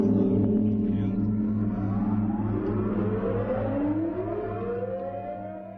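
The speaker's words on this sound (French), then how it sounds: "puis une longue sirène de 3 minutes" Long commemorative air-raid siren sounding across Shenyang, a steady droning wail with rising and falling tones mixed with a low mechanical hum, loud and continuous throughout.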